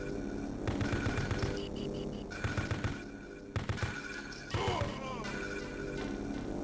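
Blind-fire gunfire bursts out in a 3D cover shooter game on the Game Boy Advance, rapid loud shots in repeated clusters over a steady game music bed with brief gaps between volleys.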